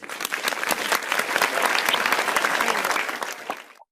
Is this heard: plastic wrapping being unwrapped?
no